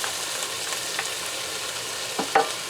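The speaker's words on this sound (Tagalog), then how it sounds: "Haluin muna natin." Beef with thyme and salt is stirred in a hot pan, giving a continuous close sizzle with soft scraping strokes and a few brief louder clacks near the end.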